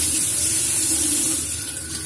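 A kitchen tap runs in a steady, loud, close rush of water as a freshly sharpened knife is rinsed under it, with no talking.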